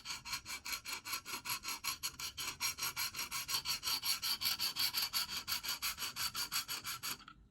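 A sharpening stone on a KME guided sharpener rubs along the edge of a Microtech Socom Elite tanto knife in quick regular strokes, a faint rhythmic rasping scrape of about four strokes per second, close and with no other sounds.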